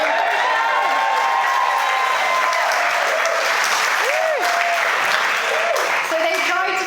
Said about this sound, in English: Can we just start by having a massive round of applause for Birdie, just like a music?